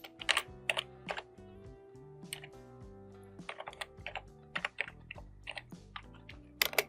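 Rapid keystrokes on a computer keyboard as an email address is entered, irregular clicky taps in quick bursts, close and clear over faint background music, with no talking.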